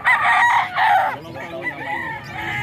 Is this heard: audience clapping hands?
no